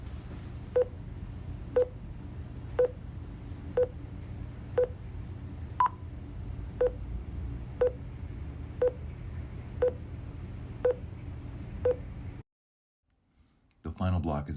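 A steady train of about a dozen short, identical beeps at roughly one per second, used as test tones in a meditation listening task, with one higher-pitched oddball tone midway; the series stops abruptly into near silence before a brief rustle.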